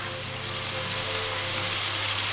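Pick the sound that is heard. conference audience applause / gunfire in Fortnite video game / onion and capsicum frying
onion and capsicum frying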